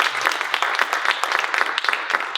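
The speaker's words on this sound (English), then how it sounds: "Everybody give her another round of applause for Chelsea." An audience applauds for Chelsea at a fireside chat, a dense, steady patter of many hands clapping at once, fairly close and sustained throughout with no talk over it.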